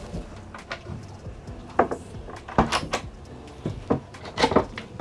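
Wooden knocks and clunks as a storage locker hatch on a Beneteau Antares 11 day cruiser boat is opened and handled, several separate bumps and thuds close by, with no voices.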